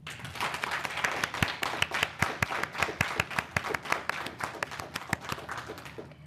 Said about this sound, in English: give a round of applause for the dynamic founders and co-founders of this association